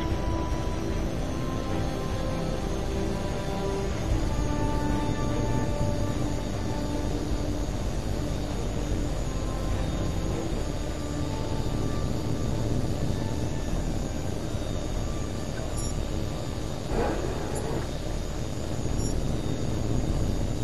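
An aircraft in a flight video game takes off with a steady, loud engine roar and rushing noise that holds through the whole stretch, with a brief higher whoosh near the end.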